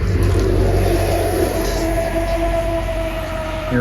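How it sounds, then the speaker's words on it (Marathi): A vehicle passes on a ghat road at night, a loud, steady engine rumble that fills the whole span with no talk over it. "आता एक गाडी गेली"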